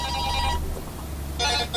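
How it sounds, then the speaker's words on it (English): A phone ringtone plays a short tonal chord pattern, sounding in two bursts with a brief gap between them, fairly loud and close, with no talk over it. "It's a pretty sweet ringtone there, Jacob."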